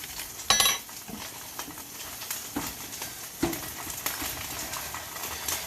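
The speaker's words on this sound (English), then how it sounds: "Let me scoot these eggs around a little bit." Eggs are pushed around a hot pan during a home cooking challenge, soft sizzling under scattered scrapes and clicks of a utensil against the pan, close and moderately quiet.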